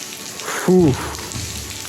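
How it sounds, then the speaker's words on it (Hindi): Steady heavy monsoon rain hisses across the whole clip at the Bedse Caves near Lonavala, with a brief burst of nearby voice or movement sounds in the middle. "It has really started to rain a lot now."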